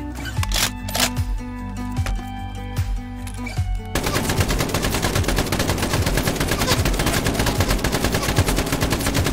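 Rapid automatic fire from a modded rifle in Fallout 4, loud and close, with a few scattered shots at first and then a dense sustained burst of repeated shots.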